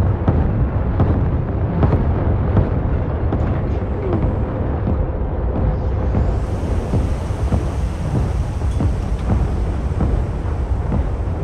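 Artillery bombardment in the multiplayer shooter World War 3, heard as a loud, continuous rumbling roar with repeated deep booms and thuds running through it from start to finish.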